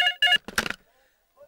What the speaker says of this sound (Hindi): लगता है सलीम का कर्जे के लिए फोन आया है।